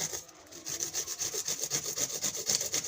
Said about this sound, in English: So I'm going to grate it.